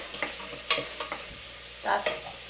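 Onions cooking in a couple of tablespoons of vegetable oil for black bean chili, with soft sizzling and several short stirring scrapes and clinks of a utensil against the pan.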